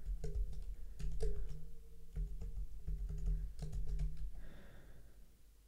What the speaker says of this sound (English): And I'm going to type this all in.